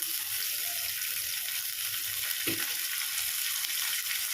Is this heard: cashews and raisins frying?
yes